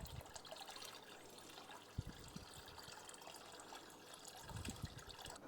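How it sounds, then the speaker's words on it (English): Water trickles and pours softly into a large six-foot paludarium, a faint continuous dribble with a few small splashes, close by with no talking. "I'll probably add a bit more water."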